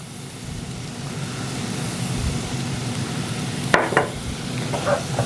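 Onions and mushrooms browning in a pan, a steady close sizzle with a couple of brief clinks of a utensil near the end.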